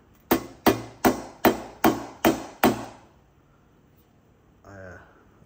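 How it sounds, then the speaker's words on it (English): Seven sharp, evenly spaced light hammer blows ring on metal while reforming a hole during a 4L60E transmission servo and accumulator install, each with a brief metallic decay, followed by a short voice afterward. "Reform the hole with light hammer blows"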